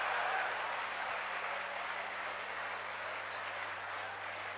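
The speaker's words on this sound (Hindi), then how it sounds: "ताली कमजोर है यार" Thin, lukewarm audience applause at a live Hindi comedy-poetry performance: a soft, steady patter of clapping that fades slightly over several seconds, with no voices over it.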